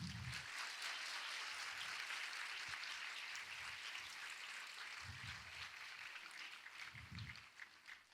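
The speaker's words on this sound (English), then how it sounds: "you can clap a little bit louder also" An audience claps steadily throughout at a Srila Prabhupada disappearance day gathering during Kartik Yatra, a dense, even patter of many hands at moderate level, with faint low voices surfacing briefly underneath.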